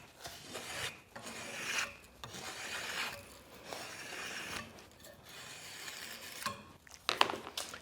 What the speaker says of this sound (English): you do turn the spokeshave around and you pull it toward you